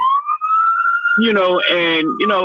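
A voice imitates a police siren with a smooth rising and falling wail, then loud, overlapping talk takes over for the rest of the moment.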